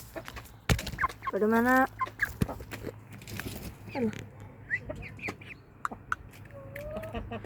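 A small hen clucks close by while being fed, with short rhythmic clucks and a few higher calls scattered through, under occasional brief speech from a person nearby.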